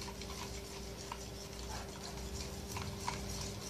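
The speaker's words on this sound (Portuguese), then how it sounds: "Vou dar uma mexidinha logo aqui no produto" Stirring a homemade air freshener mixture with furniture polish, a steady faint scraping and ticking of the utensil against the container under a constant background hum, with no talking.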